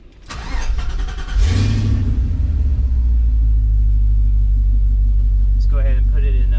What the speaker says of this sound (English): start and idle the engine.